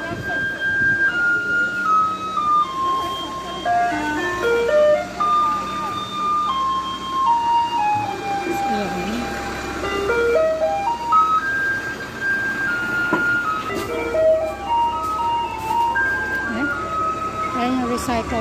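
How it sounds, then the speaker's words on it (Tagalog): A Taiwanese garbage truck plays its loud, continuous electronic jingle, a bright repeating melody that carries along the street as the truck passes. "Ayan na yung truck. Yung kasunod na truck niya, recycle truck yun"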